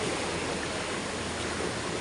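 Steady, continuous rush of surf, with broadband wash from small waves breaking nearby and no voices.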